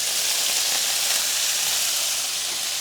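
Beef tallow sizzles steadily on a Blackstone griddle, a loud, even, bright hiss close up and heard alone.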